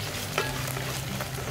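Chopped green chillies, mint leaves and coriander frying in a pan while being stirred for a masala pulao, with a continuous steady sizzle, a low hum beneath and a couple of soft stirring knocks.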